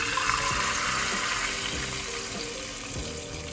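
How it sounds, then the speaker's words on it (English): Water is poured steadily into browning pizza sauce in a home kitchen, a continuous close splashing and sizzling rush that runs the whole time without speech. "Now add your water."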